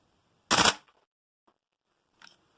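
A Tokyo Marui Type 89 gas blowback airsoft rifle fitted with a heavy recoil kit fires one sharp, loud burst of rapid shots at close range, followed by faint clicks and near silence.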